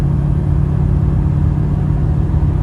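A stock LBZ Duramax diesel pickup climbs a hill at highway speed on quarter throttle, a steady loud low engine drone and road rumble heard from inside the cab.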